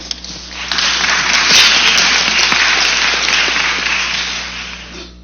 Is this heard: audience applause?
yes